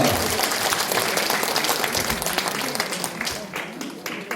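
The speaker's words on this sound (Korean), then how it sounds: "다시 한번 감사의 박수 부탁드립니다." Audience applause at a public education lecture in Busan, a broad continuous patter of many hands clapping, moderately loud and steady before tapering slightly as it winds down.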